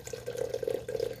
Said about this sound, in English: And I'm going to dump this water in.